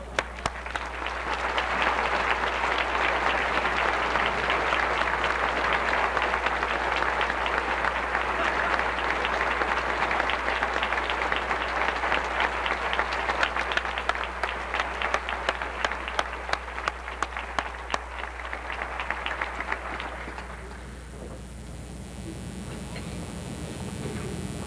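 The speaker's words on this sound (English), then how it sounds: "Please accept this gift from the friends and alums of Baylor as we all applaud and force to stand the Worsham women." An audience at an evening school celebration applauds steadily for about twenty seconds, a dense, even wash of clapping that then tapers off into a quieter room.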